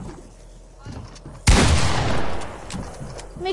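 A hand cannon fires in a Fortnite box PvP match: one sharp, loud report bursts out after a quiet stretch and rings briefly, with game noise and faint voices around it.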